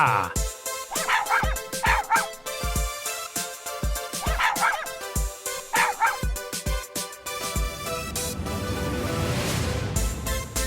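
A cartoon dog in an educational children's farm animation yaps in a string of short, bright barks over a bouncy music bed, which carries on alone after the barking stops.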